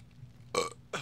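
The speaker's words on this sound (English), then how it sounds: "It means more burps." A person burps twice, close and loud: one longer belch followed by a second, shorter one a moment later.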